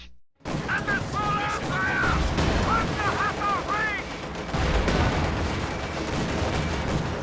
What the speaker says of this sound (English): takes 2 nasty shots from the T-34s. 1 shot misses. Panzerschreck fires on the T-34 and connects.